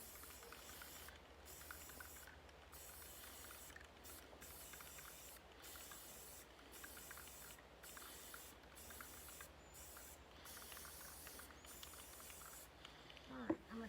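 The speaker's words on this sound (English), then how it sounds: "and you spray paint all over the cup." Spray paint hisses from a can onto a cup in a long, steady, fairly quiet spray, broken by several brief pauses across the stretch, with a faint knock near the end.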